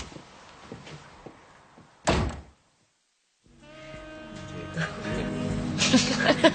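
A door slams shut once with a sharp, heavy thud, followed by a moment of dead silence before room sound and music come back in.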